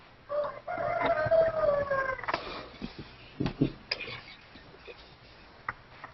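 A voice imitates a rooster crowing, a rising and falling drawn-out call heard clearly at the start, followed by scattered faint knocks and background noise during an online star party.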